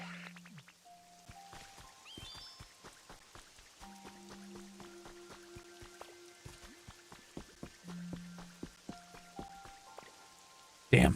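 Steady soft rain patters on surfaces in the Pokémon life-sim game Pokopia, a faint continuous hiss with scattered drip ticks under light game tones and chimes, ending in a brief louder burst.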